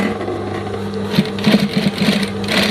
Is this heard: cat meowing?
no